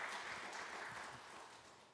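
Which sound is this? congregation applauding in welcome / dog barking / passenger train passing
congregation applauding in welcome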